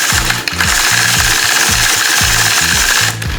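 Sewing machine stitching free-motion quilting on a snowflake design in a 2-inch strip, a loud, fast mechanical chatter in short rhythmic bursts with brief pauses between runs, close and alone.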